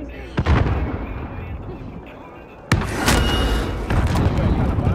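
Sniper rifle shots in Call of Duty: Modern Warfare, two loud booming cracks, one early and one near the middle, each followed by rumbling noise, with players talking over the scene.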